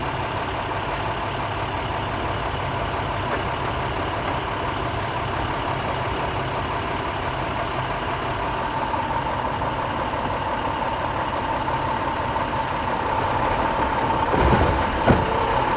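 A garbage collection truck idles steadily and loudly nearby, its low engine drone continuous throughout, with a brief mechanical clank near the end and no voices.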